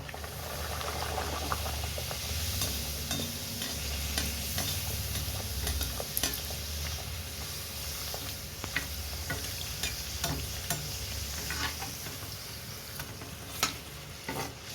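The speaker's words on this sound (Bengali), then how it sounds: "আমার তেল গরম হয়ে গেছে, এবার আমি একটা একটা করে ভেজে নেব।" Chana dal-filled puris frying in hot oil make a continuous soft sizzle, with scattered light clicks and taps from handling throughout.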